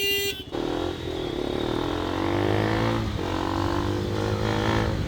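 A Bajaj Pulsar NS400Z motorcycle engine idles and runs steadily nearby after a brief start-up, a loud continuous hum with slight rises in pitch and no talk over it.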